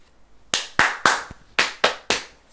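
Seven sharp, separate hand claps from a group of children, spaced in a steady beat along with a rhythm game in a classroom story session, crisp and close with brief silences between.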